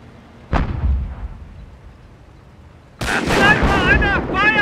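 Heavy gunfire and explosions in the WWII strategy game Company of Heroes on the Blitzkrieg Mod Afrika Addon map Fort Capuzzo: one loud blast early, then a dense, loud burst of firing and booms, with game voices calling out over it.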